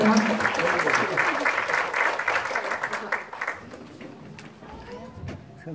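An audience at the founding ceremony of a Gyeongbuk labour rights centre gives a dense round of applause that thins and tapers off after a few seconds.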